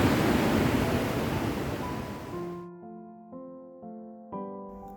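Floodwater rushes down the river in Kalam with a loud, steady roar for a couple of seconds, then cuts abruptly to sustained musical tones.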